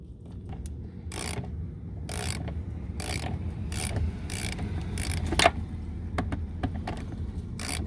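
A ratchet wrench works a tight nut on the fuel filter of a Volvo S70, making a series of short, rhythmic clicking bursts over a low background rumble, close by and without talk.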